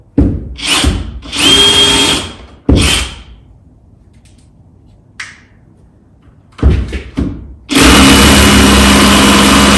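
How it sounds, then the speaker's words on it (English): SDS drill fitted with a 10mm bit boring through wood in a garage partition build, loud whining bursts in short starts and stops, then a long sustained run at the end. "So I'm going to drill that. Got a 10mm SDS bit through the pre-drilled hole."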